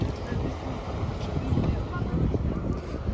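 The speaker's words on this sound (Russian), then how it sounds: "Ветрено сегодня." Winter wind on the Black Sea shore at Odessa roars steadily and buffets the microphone, with a low, continuous rumble and no pauses.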